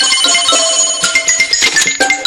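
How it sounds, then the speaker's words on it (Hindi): A telephone ringtone in a Hindi-dubbed Ultra B cartoon: a loud, bright electronic melody of repeating tones that rings steadily with no speech over it. "ठीक है, मैं फोन लगा देता हूँ।"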